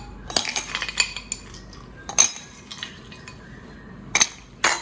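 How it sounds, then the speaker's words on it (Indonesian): Ice cubes are dropped by hand into a stainless container of chocolate drink mix, giving sharp clinks and rattles in irregular bursts with quieter clattering in between, close and fairly loud, with no voices. "Ini aku kasih es batu secukupnya ya."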